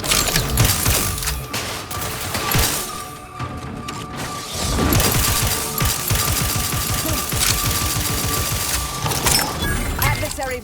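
Rapid gunfire volley in the sci-fi shooter The Outer Worlds 2, dense bursts and impacts layered over a steady hum and game music, loud and continuous throughout with a brief dip in the middle.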